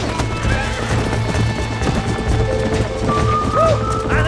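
In the Red Dead Redemption video game, horse hooves clip-clop steadily up close on the ground while a horse neighs and whinnies, over a low ambient background.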